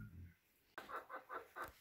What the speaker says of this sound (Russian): Курочки поют.